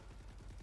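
Rapid video game gunfire at a target, a quick string of sharp, evenly spaced shots lasting under a second at moderate loudness.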